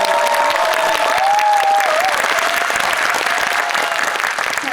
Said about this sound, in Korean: 재밌게 보신 만큼 박수 한번 크게 쳐볼까요?